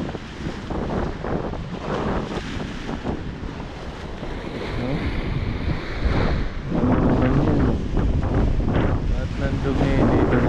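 Strong gusting wind buffets the microphone on the Taal lake shore while waves wash in, a loud, rough, continuous roar that grows heavier toward the end.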